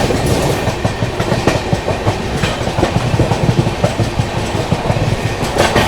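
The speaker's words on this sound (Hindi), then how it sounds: "Gorakhdham superfast express overtaking Anand Vihar terminal Puri पुरुषोत्तम एक्सप्रेस को" Gorakhdham Superfast Express running alongside and overtaking the Purushottam Express, loud continuous rumbling with rhythmic clickety-clack of wheels over rail joints, heard from on board.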